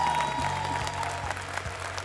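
Steady applause from an awards gala audience honoring women in accounting, continuous and fairly loud throughout with a low hum running beneath.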